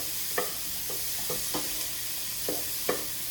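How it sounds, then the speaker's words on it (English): Chicken breakfast sausage sizzles softly in a pan alongside cooked-down vegetables, with a few distinct scraping stirs breaking through the quiet frying hiss. "now that this is all softened up and cooked down, we are going to add our chicken breakfast sausage"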